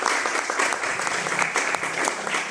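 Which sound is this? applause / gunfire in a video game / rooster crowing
applause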